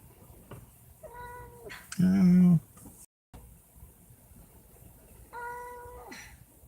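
A pet cat named Jones meows several times nearby, with short calls early on, a loud drawn-out yowl in the middle, and another long meow near the end.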